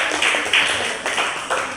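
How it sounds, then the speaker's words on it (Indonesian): Classroom of students clapping hands, a few loose rhythmic bursts of nearby claps, fairly loud. "Oke, tepuk tangan."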